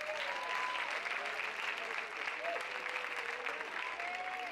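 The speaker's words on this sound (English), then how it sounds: "Let's give one more big round of applause for our competitive spirit WPIAL champions." Sustained applause from an audience at a school extracurricular awards assembly honoring WPIAL champion cheerleaders, a steady even wash of clapping heard from a distance with a faint whistle-like tone drifting through it.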